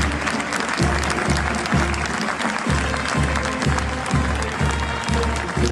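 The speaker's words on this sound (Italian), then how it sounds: "Un applauso e silenzio, tanto silenzio per una tragedia che ha scosso tutti." Mourners applaud steadily as a coffin is carried out of a church after a funeral, a sustained rhythmic clapping from a crowd that carries on throughout.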